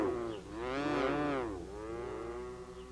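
A cow on a dairy farm lets out a long, rising and falling moo, fairly faint and heard alone, followed by a softer trailing call.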